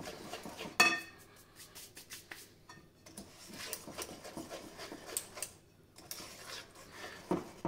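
Vanilla cake batter mixed in a bowl, with intermittent clinks and scrapes of a utensil against the bowl, one sharper knock near the start, and quiet irregular taps throughout.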